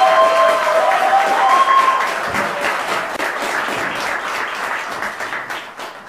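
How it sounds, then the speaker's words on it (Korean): Concert audience at a piri lecture concert gives loud, sustained applause with some cheering, full and close at first, then slowly thinning and tapering off toward the end. "환호와 함성의 큰 박수 한번 더 드릴까요?"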